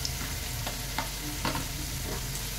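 Chopped onion fries in oil with crushed ginger and cut green chili, a dense, steady sizzle with a few soft stirring scrapes, close and continuous, with no talking.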